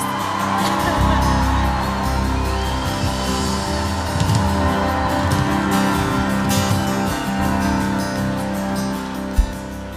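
A church congregation applauds its pastors during a service, sustained mixed clapping with scattered whoops and shouts from the crowd, steady and fairly loud throughout, with voices mixed in.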